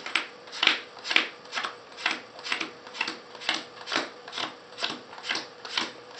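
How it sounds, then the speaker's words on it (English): Playing cards dealt one at a time onto a table in a steady rhythm, about a dozen crisp snapping flicks spaced roughly half a second apart, close and clear with no talk over them. "you want to count out 24 cards"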